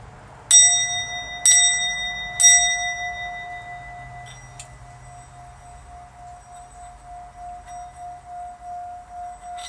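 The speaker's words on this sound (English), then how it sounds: "this is a sound bowl used to create frequencies and sounds and music that is beneficial to the spirits around us" A meditation sound bowl is struck three times about a second apart, each strike blooming into one long, steady ringing tone that sustains and slowly fades across the rest of the clip, alone and without talk.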